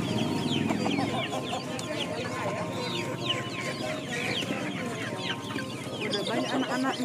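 Free-range village chickens cluck and squawk in a dense, continuous chorus at a busy Thursday poultry market in Deli Tua, with traders' voices and crowd noise mixed underneath.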